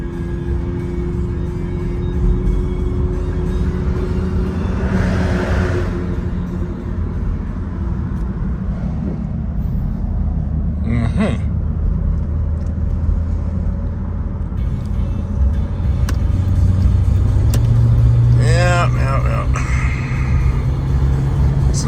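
A Dodge Charger EV electric car cruising on a relaxed Sunday drive, with a steady low road-and-wind rumble inside the cabin and a couple of brief higher whines rising over it; no one talks.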